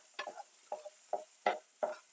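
Spoon stirring walnuts into olives frying in a pan, five soft scraping strokes at a steady pace, quiet and close with no talk.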